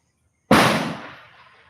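A single sharp firecracker bang bursts suddenly after brief silence, loud and close, then decays with a fading crackling tail.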